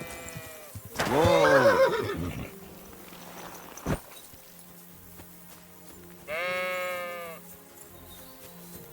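Sheep bleating in the video game Kingdom Come: Deliverance 2, a loud wavering bleat early on and a second clear bleat later, with a short spoken exclamation and faint background game sounds.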